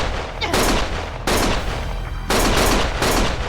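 Gunfire in the video game Lost Judgment: three loud, near bursts of rapid shots, each lasting about a second, separated by brief lulls over a low rumbling backdrop.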